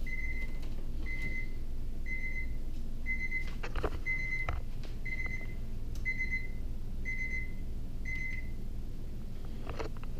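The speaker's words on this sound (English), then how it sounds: "Let me get that alarm." An electronic alarm beeps in a steady repeating pattern, about one short tone per second, over a low rumbling background with occasional clicks.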